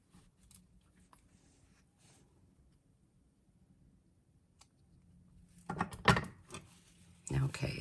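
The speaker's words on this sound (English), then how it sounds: "we're going to come in with our wire cutters, and we're going to trim these ends off" Wire cutters snip the ends off a handmade sari silk tassel for jewelry making: a long hush, then a few crisp, close clicks and snips near the end.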